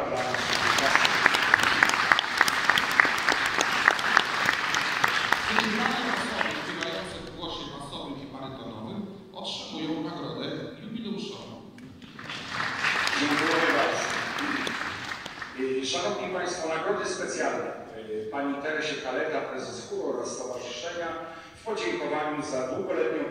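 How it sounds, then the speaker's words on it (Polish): An audience at a choir's centenary concert applauds its members in sustained clapping, with a voice speaking over it, then a second burst of clapping before more talk. "Duże brawa dla naszych"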